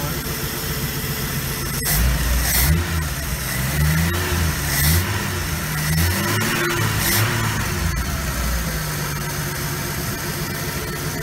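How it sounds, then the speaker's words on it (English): A 1976 Ford F150 engine idling in a shop with a Cherry Bomb exhaust, a steady low rumble with a few brief revs that swell and fall back, close by, with someone talking over it. "I've got the exhaust system on it, and I have it warming up in here a little bit. It's running really nice."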